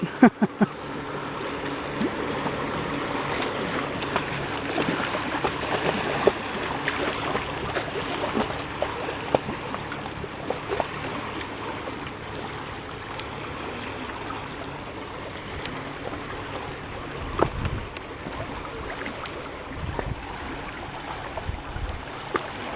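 The Oconee River at Skull Shoals flows beside old bridge piers, a steady murmur of moving water with boat wake waves lapping, and occasional knocks and splashes close by.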